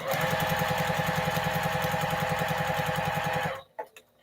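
A sewing machine stitches a baby cape in a fast, steady mechanical rattle at close range, then stops abruptly near the end, leaving a couple of faint clicks.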